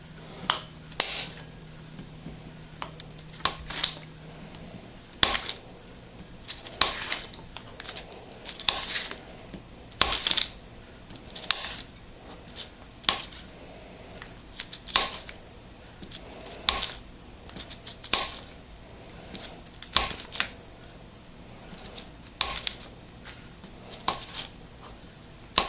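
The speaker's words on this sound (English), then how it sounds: "what I like to do with my butter is that I like to cut it up and then put it into the microwave" Butter being cut up in a home kitchen for chocolate chip cookies, heard as sharp, irregular knife taps and clicks against a board or dish, fairly close, with no talk between the strikes.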